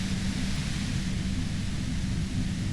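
Steady hiss of white noise in the video game Disco Elysium, broad and even with a low rumbling floor, continuous and unchanging throughout with no speech.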